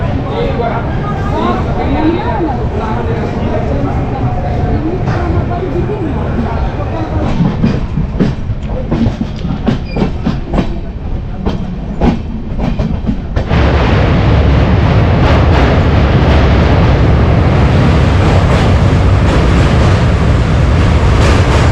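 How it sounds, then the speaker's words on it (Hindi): Purvanchal Express passenger train running after leaving Barauni, a loud continuous rumble and rattle of the coaches that grows heavier and rougher partway through, with voices in the carriage. "बरौनी से अपनी ट्रेन निकल चुकी है।"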